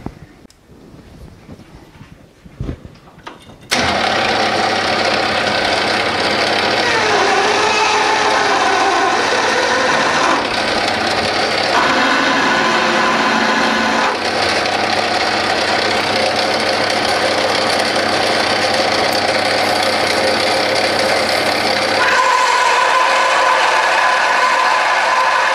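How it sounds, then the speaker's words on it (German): A Bernardo P 600 G lathe bores into a Grade 2 titanium ring with a 17 mm drill, giving a loud, steady machining drone with a hum that runs unbroken for about twenty seconds after a short quiet start. "Da werden wir jetzt mutig mit einem 17er Bohrer mal reinfahren und schauen, was passiert."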